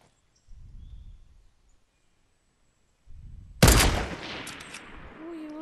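Gunfire in a shooter video game, one sudden loud burst of shots followed by a decaying rattle, preceded by two soft low thumps over near silence.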